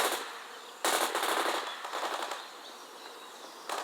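Bursts of rapid machine-gun fire rattle in a World in Conflict battle, sharp and loud, with short pauses between volleys over a few seconds.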